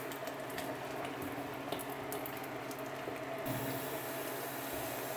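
Butter-enriched sauce for shrimp and grits simmering in a pot, a steady close bubbling and faint liquid hiss running evenly throughout with no voices.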